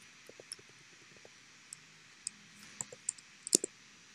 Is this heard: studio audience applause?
no